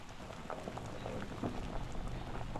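Yam boils in a pot, a dense, steady bubbling and churning that fills the short stretch evenly at moderate loudness, with no voices over it.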